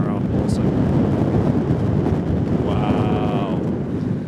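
Strong gusting wind buffets the microphone at Manchester Airport during Storm Ashley, a loud continuous roar with a brief tonal whine partway through.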